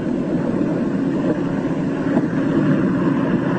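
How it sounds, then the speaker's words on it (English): A single remaining aircraft engine losing power during an Antarctic flight gives a steady, droning roar with a rough, wind-like rush, continuous and fairly loud throughout, with no talk. "His one remaining engine is losing power."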